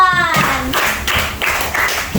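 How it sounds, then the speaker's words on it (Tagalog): Group of students clapping together in a classroom during a teaching demonstration, a short burst of steady hand claps, close and fairly loud, with a teacher's voice just before. "palakpak ang group 1"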